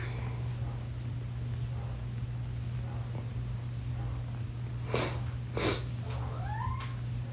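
A cat named Clancy lets out a faint, short rising meow near the end, heard indoors over a steady low hum with a few soft background rustles.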